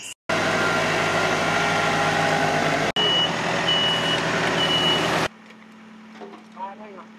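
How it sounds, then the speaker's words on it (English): A pickup truck in the Georgia countryside reverses with steady backup beeps over its idling engine, loud and close, then cuts off and leaves quiet outdoor ambience with a faint voice. "I pulled the truck over here and meet him."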